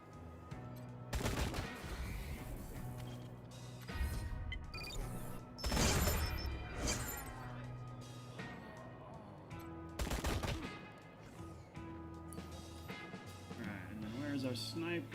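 Gunfire bursts in the Wasteland 3 video game ring out in several sharp loud volleys spaced a few seconds apart, over a running game soundscape with a voice talking throughout.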